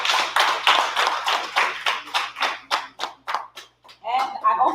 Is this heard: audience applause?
yes